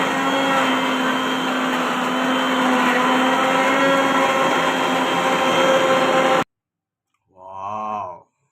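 An electric mixer grinder runs loud and steady for several seconds, grinding spices for goat meat, then cuts out abruptly and is followed by a brief short burst.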